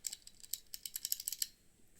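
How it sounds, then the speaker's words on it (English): Clicky mechanical keyboard switches on an 8BitDo Retro Mechanical Keyboard, a quick run of sharp close-up clicks in an uneven typing rhythm for about a second and a half, then quiet. "we have these sort of clicky switches here"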